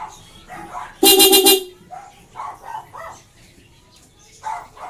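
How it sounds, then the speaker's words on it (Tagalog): A bright, loud Bosch compact car horn fitted to a Vega Force Fi motorcycle blasts once for about half a second, standing out over faint background talk and ambient noise. "compact horn Bosch yung brand ng busina natin"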